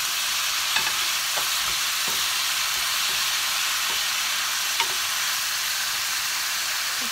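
Peppers fry with a steady, close sizzle in a pan of garlic and juices for Caribbean saltfish, broken by a few scattered soft scrapes of stirring across about seven seconds.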